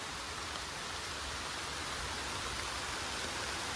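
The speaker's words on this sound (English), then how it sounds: "It is still raining and I got absolutely destroyed by the rain." Heavy rain pours steadily at a creek during a fishing outing, a dense, continuous broadband hiss that stays even and loud throughout, with no talk.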